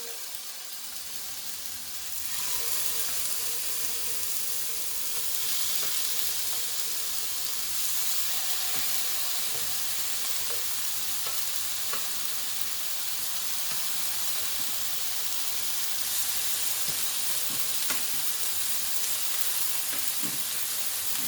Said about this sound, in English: Oh, there we go, there's the sizzle.